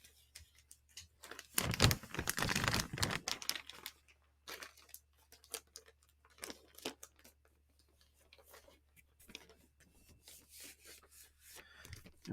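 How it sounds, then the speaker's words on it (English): A plastic sleeve crinkles and rustles as it slides back over a vinyl record, with a loud crackling burst early on, then scattered softer crinkles and rubs up close, and no talking. "Let's get the plastic back on this."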